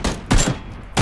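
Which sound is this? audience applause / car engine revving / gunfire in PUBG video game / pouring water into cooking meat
gunfire in PUBG video game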